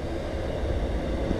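A train passing near the Graham Farmer bridge in Perth, Western Australia, gives a steady, loud broadband rumble that fills the outdoor riverside setting without a break.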